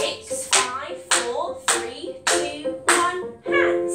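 Children in a pre-primary ballet class clap in unison, six sharp rhythmic claps spaced about half a second apart, close and clear, with faint childish voices between them.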